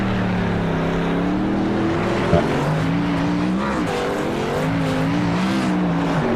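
Race trucks in a Truck Series race at IRP roar continuously at close range, engines droning and shifting in pitch as they pass, loud and steady without voices.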